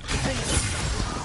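Confringo blasting spell from Hogwarts Legacy going off as a single loud burst, a crackling, shattering blast that fills the short moment and fades fast, with no voice over it.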